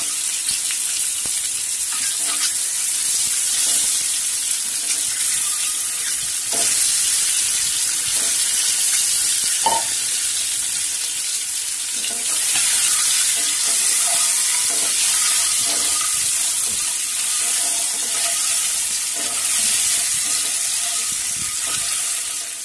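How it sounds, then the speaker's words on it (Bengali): Eggs coated in turmeric and salt fry in hot oil over low heat, giving a steady, close sizzle with a few faint clinks and stirs throughout, and no talking. "ডিমগুলো ভাজা হয়ে গেছে, তাহলে আমি ডিমগুলো তুলে নেব।"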